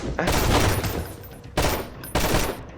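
Automatic gunfire bursts from the Sunkenland video game, sustained rapid shots for over a second and a half, then two more loud bursts in quick succession.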